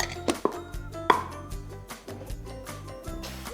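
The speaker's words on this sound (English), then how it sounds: "in another bowl, whisk together dry ingredients" Dry cookie ingredients, flour with salt and baking soda, being whisked in a bowl for chocolate chip cookies; light irregular taps and clinks of the whisk against the bowl, close and fairly quiet.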